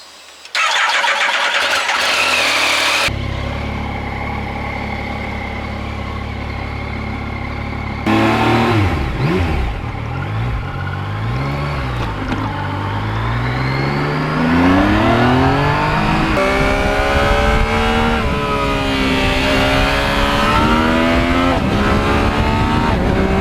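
A Yamaha MT-09 motorcycle engine cranks and fires, idles with a rough rumble, then revs repeatedly, pitch climbing and falling with loud throttle blips, up close.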